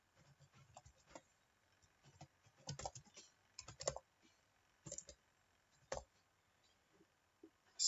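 Quiet keystrokes on a computer keyboard as an email address is typed, irregular clusters of clicks with pauses between, close and fairly faint with no voices.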